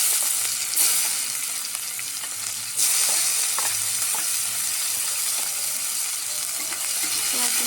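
Chopped onions frying in a pan of hot oil with cumin, bay leaves and dried chillies for an egg and coconut milk curry, giving a steady close sizzle with occasional scraping stirs and no talk.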